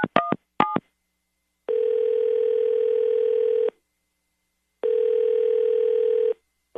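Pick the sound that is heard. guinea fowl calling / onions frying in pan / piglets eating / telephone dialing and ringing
telephone dialing and ringing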